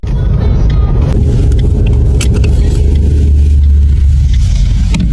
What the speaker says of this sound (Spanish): Acá viene mucho auto.